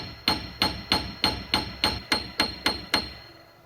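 A steady series of about eleven sharp metallic strikes from a piano hammer hitting the string inside a Baldwin SD6 piano, evenly spaced and ringing briefly, close and fairly loud.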